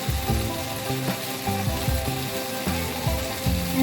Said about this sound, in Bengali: পেঁয়াজটা কেটে রেখেছিলাম আর ক্যাপসিকামটা, এটা হালকা করে ভেজে নেব